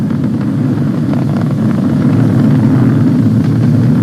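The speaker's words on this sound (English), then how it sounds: "We're throttling down to get ready for the period of maximum dynamic pressure." The Merlin engines of a Falcon 9 rocket roar as they throttle down during launch, a loud, steady, distant-sounding low rumble that continues without a break and with no voices over it.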